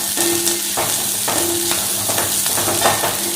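Onions sauté in an Indalium cheenachatti wok with a steady, close sizzle, broken by repeated scraping stirs at a regular pace, with no talk over it.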